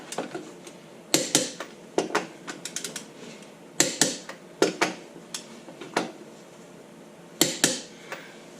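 Torque wrench clicking as bolts on a 2016 Jeep JK rear axle are tightened in a clockwise pattern, sharp ratcheting clicks in irregular bursts, close and fairly loud with no talk.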